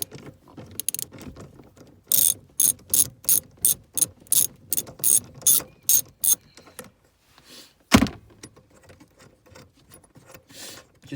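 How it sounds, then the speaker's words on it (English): A ratchet with a 13mm socket works a bolt loose on an 8th-generation Honda Civic Si, giving a close run of about ten sharp, rhythmic clicking bursts, then a single loud clank after a pause. "the things you're gonna use is a ratchet with a 13mm"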